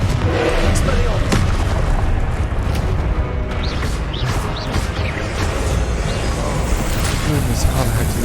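Booming blasts from the Confringo spell in the Hogwarts Legacy video game, several heavy explosions amid a dense, noisy battle mix with voices over it.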